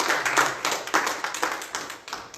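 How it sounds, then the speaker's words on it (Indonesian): A church congregation at a Sunday service claps their hands together, a steady run of close, crisp claps lasting a couple of seconds with no talk over it. "Tepuk tangan dulu buat Tuhan."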